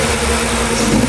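A Porsche 944 engine running on a MicroSquirt engine management system, idling high at around 1100 RPM, gives a steady, close mid-pitched hum with a slight lumpy flutter, continuous and alone for a short stretch.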